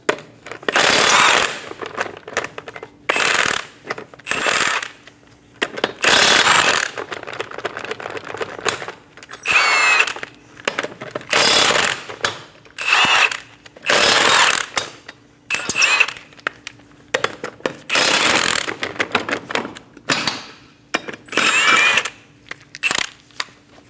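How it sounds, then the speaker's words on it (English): Power tool spinning a 21mm socket to remove the five lug nuts from a Scion xB front wheel, loud buzzing bursts repeating one after another with short pauses between. "Using a 21mm socket, remove the 5 lug nuts."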